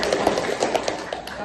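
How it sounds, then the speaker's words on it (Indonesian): Brief applause in a classroom, a burst of quick claps from a group with voices mixed in underneath. "kasih aplaus dulu"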